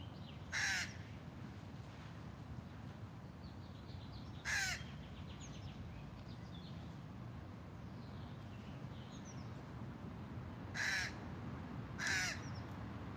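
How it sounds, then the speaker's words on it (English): A crow caws outdoors in four separate bursts spread far apart, each short and harsh, standing out over a faint, steady background hum. "This crow has a lot to say."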